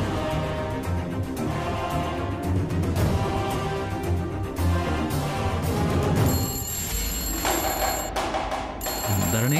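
A telephone rings in a Telugu TV serial scene, its electronic bell tones repeating clearly over a loud backdrop of dramatic music and sound.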